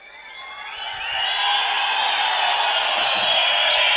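A large crowd at an Aam Aadmi Party political rally in Doda, Kashmir, cheering and clapping in a sustained roar that swells over the first second and then holds loud and steady.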